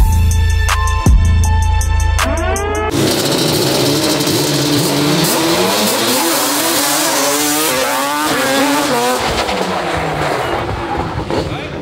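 A loud wheelie race between an Audi RS3 and a drag-spec Yamaha Banshee, engine noise swelling into sustained hard revving and acceleration after a few seconds of voices and short electronic beeps.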